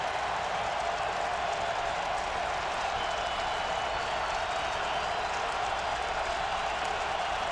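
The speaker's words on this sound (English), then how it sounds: "Listen to the crowd get in it." A big football stadium crowd at an Arkansas versus Tennessee college game roars steadily on third down, a dense, continuous wall of cheering and noise that holds at a constant level throughout with no speech.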